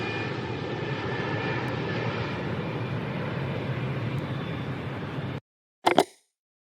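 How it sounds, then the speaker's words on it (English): A fast military fighter jet roars steadily overhead as a loud, continuous broadband rush that cuts off abruptly, followed by a brief separate thump. "This is a fighter jet."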